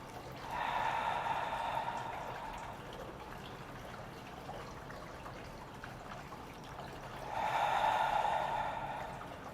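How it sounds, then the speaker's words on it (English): Slow yoga breathing, in through the nostrils and out through the mouth: two soft, airy exhales several seconds apart with a quieter breath between them, close and faint, with no talking. "breathing in through the nostrils, breathing out through your mouth, like fogging the mirror"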